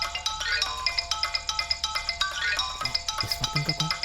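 A phone ringtone rings in a Hindi-dubbed South Indian horror thriller film, a steady run of quick, bright pulses repeating close and clear with no talk.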